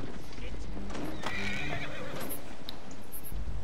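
War chariot horses in Assassin's Creed Origins whinny loudly with clip-clopping hooves and game noise all around, while someone talks over them.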